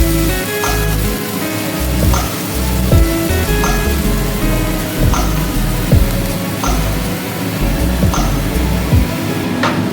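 Spice paste (masala) fries in a pan for prawn malai, a dense crackling sizzle under repeated rhythmic scrapes and taps of a spatula stirring, with steady music in the background.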